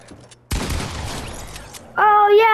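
A sudden loud gunshot burst in a video game with a rattling decay lasting over a second, followed by a voice speaking.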